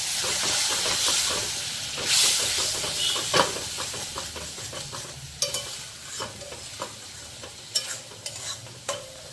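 Crab masala sizzling and hissing in a pan as water goes in, with stirring scrapes and bursts of steam, close and fairly loud, no voices.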